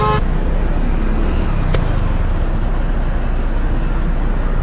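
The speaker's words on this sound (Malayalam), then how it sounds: "ബസ് സ്റ്റാൻഡിൽ ഒരുപാട് ബസ്സുകൾ ഗവൺമെൻറ് ബസ്സുകളും പ്രൈവറ്റ് ബസ്സുകളും ഒക്കെ തന്നെ പോകുന്നുണ്ട്" Government and private buses move through a busy bus stand, their engines making a loud, continuous rumble close by, with a brief tone near the start.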